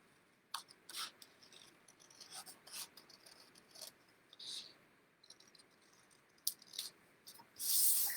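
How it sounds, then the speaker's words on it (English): Scissors snip through paper while daffodil shapes are cut for papercraft, giving soft, close, irregular crisp snips with short gaps and a louder rustle at the end. "I'm just going to cut this bit"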